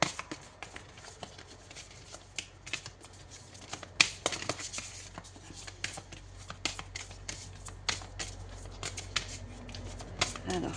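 Tarot cards being shuffled and drawn by hand, a busy stream of close riffling, flicking and tapping card sounds, with a sharper snap around the middle, while a voice talks over it.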